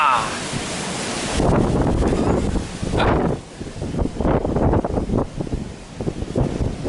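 Strong gusty wind roars across the microphone of a flying drone, a loud broadband rush that swells and dips in waves.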